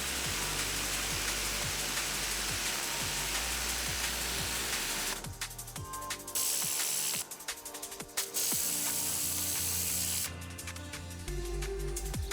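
The nozzle of a Stihl RE 143 Plus pressure washer is twisted by hand, giving a run of close, dry ratcheting clicks, after which the water stream changes in bursts of spray.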